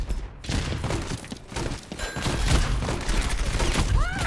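Rapid bursts of gunfire from an Overwatch match ring out in dense, overlapping volleys with thumps and sharp game effects, loud and busy throughout, with a faint voice underneath.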